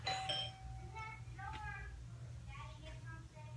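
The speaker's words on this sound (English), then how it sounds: "Doorbell just rang." A doorbell rings out in a series of bright chime tones, with people talking over and around it.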